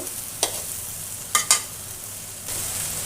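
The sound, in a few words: mustard oil added to pan, sizzling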